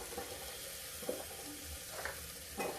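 Tomatoes dropped into spiced masala frying in a pan for a mixed leftover-vegetable dish, giving a steady close sizzle with a few soft stirring scrapes and splashy bursts, and no talking.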